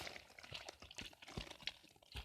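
A sweaty foot squelches and sloshes wetly inside a boot in faint, irregular, close-up bursts with soft liquid clicks.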